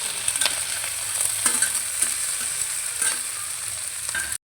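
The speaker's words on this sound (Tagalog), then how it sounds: "I-mix natin. Ilalagay na natin yung ating repolyo." Cabbage and shrimp stir-fry in a hot pan, with a steady bright sizzle and repeated scraping stirs close up, then a sudden stop at the end.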